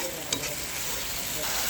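Turmeric, chili powder, salt and a splash of water cooking down as a masala stirred and sautéed in a pan: a steady, close, bright sizzle with a few scraping stirs and no talk.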